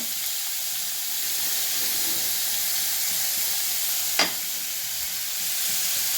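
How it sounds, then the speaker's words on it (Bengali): Soybean dal frying in a pan, a steady even hiss of sizzling oil that holds at one level throughout, broken once by a brief sharp scrape or clink partway in. "এটাকে একটু লাল করে ভাজবো"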